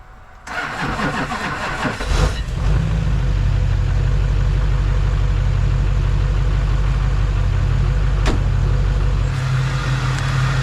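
A Hummer with a Duramax diesel engine, started for the first time in years, cranks briefly, fires right up and settles into a loud, steady, close diesel idle that runs unbroken to the end.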